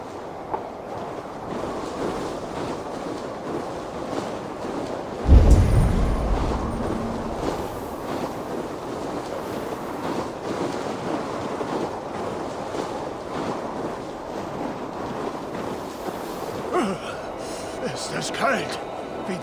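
Howling wind sweeps through Helheim in the video game Assassin's Creed Valhalla, a steady broadband rush lasting the whole stretch beneath voices talking, with a heavier low gust or thump about a quarter of the way in.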